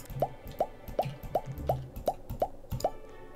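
A slime potion is stirred in a cauldron in Roblox, giving eight evenly spaced wet plops in a steady rhythm, each a short gloopy drip-like burst, close and clear.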